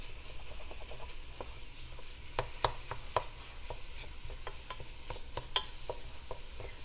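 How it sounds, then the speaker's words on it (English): Ground sausage browning in a pan while being stirred constantly, a quiet sizzle under repeated close scraping and tapping strokes of a utensil against the pan. "So you're just going to brown this like you would any ground beef. You're going to have to keep stirring it"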